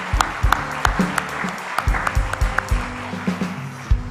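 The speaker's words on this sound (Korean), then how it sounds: "우리 저 귀한 가정 들어갈 때까지 박수 한번 칩시다" A church congregation claps together during a Sunday worship service, a dense burst of applause with sharp individual claps standing out, steady across the whole stretch with no talking.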